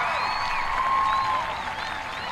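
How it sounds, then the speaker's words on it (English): An audience applauds graduating students at a graduation ceremony, a steady wash of clapping throughout with a faint tonal hum running beneath it. "Let's give all of our students a round of applause."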